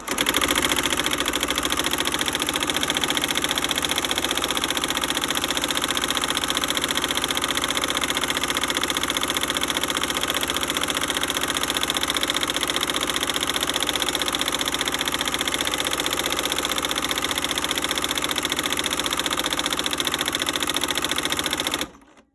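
A sewing machine free-motion quilting runs continuously at a fast, even whir for about twenty seconds, close and loud, its presser foot adding noise, then stops abruptly.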